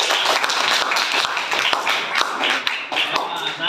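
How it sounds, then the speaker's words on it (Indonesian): A classroom of students claps in a lively burst, sharp close hand claps with irregular rhythm filling the room, a few voices mixed in. "Ya, tepuk tangan."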